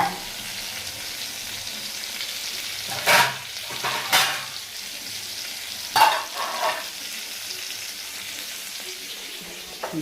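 Food frying with turmeric in a home kitchen, a low steady sizzle punctuated by a few louder scraping stirs and clanks at intervals.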